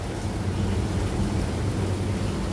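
Heavy rain roars in a steady, dense wash during a hot-weather storm with thunder, loud and close with no voices.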